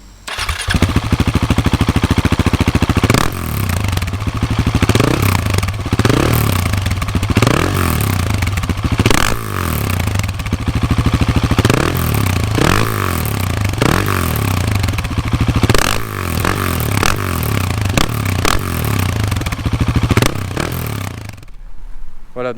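A 2019 KTM 690 SMC-R supermoto motorcycle with a Wings exhaust revs loudly and close by, its single-cylinder engine blipping through repeated sharp throttle bursts over a steady idle for about twenty seconds, with no talking.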